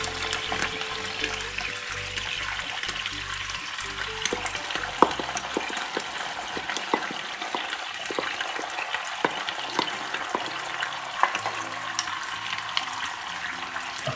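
Sweet and spicy sauce over bok choy sizzles and crackles in a hot pan, a steady hiss with scattered pops and stirring scrapes, with no voice over it.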